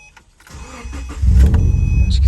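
A 2008-2014 Subaru Impreza engine cranks briefly and catches close by, then holds a loud, steady rumbling idle to the end.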